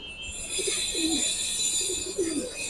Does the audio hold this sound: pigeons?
yes